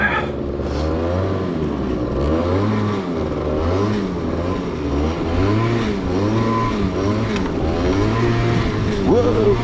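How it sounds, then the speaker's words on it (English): A snowmobile with a Marini engine revs repeatedly while ploughing through deep snow, its loud engine note climbing and falling in rhythmic surges, with a voice speaking over it. "I love the sound of those Marini engines, by the way."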